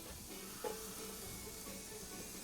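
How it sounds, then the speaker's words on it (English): A steady, faint sizzle of onions frying in a pan, with a brief clink near the start and no voices. "Look at that. That's sizzling. I'm just gonna put the onions in there."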